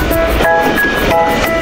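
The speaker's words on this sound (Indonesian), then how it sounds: "lihat teman-teman, yang ini kereta api." A toy train runs in a loud, steady electronic rail sound with rhythmic clacking and sustained tonal whistle-like notes, continuous and close, without speech.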